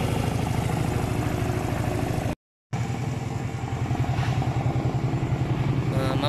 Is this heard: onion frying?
no